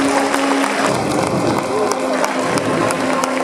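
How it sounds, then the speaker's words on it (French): Lively applause and cheering from the audience at a hypnosis show during a talent contest, dense clapping throughout with voices and shouts mixed in. "On les applaudit s'il vous plaît"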